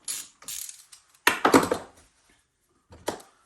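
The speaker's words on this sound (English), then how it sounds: "I'm using an 8mm socket to take the bolts off." An 8mm socket on a ratchet backs bolts out of a Poulan 2075c chainsaw, giving short bursts of close mechanical clicking and ratcheting separated by brief pauses, with no talking.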